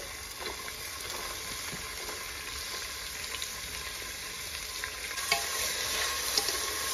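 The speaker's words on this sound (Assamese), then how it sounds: "আকৌ এবাৰ ভাজিছোঁ এতিয়া চব্জিখিনি" Chopped carrots and beans fry in a pan in a new Assamese kitchen with a steady close sizzle, broken by occasional scrapes and clicks of stirring for several seconds.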